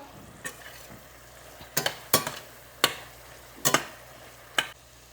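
A spoon stirs a pan of vegetable curry and garam masala, scraping and knocking against the pan in several sharp strokes over a soft, steady sizzle, with no voices.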